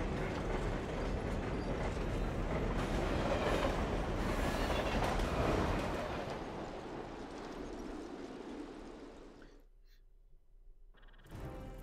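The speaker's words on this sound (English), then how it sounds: "Get on the train." A train in the video game Lost Planet 2 rumbles and rattles steadily for several seconds, then drops away into near silence before a brief return of noise.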